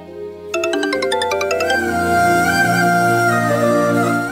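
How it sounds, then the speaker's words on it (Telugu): A phone rings loudly with an incoming call, a bright repeating melodic ringtone that starts after a short silence and keeps playing to the end. "చిన్న ఫోన్ చేస్తున్నాడేంటి?"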